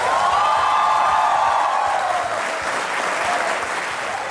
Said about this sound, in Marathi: आणि या टाळ्या वाजवत रहा